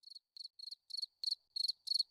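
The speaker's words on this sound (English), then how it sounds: "It may not be summer, but those crickets are still out" Crickets chirp in a crisp, close sound effect from the Discord app, seven quick bursts of three or four rapid pulses each, evenly spaced and alone with no other sound.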